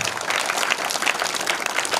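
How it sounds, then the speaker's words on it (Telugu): A school audience at a Republic Day event claps loudly for a visiting guest, a dense, steady burst of applause from many hands filling the room without pause. "సార్ దగ్గర అందరూ గట్టిగా ఒకసారి చప్పట్లు కొట్టండి గట్టిగా"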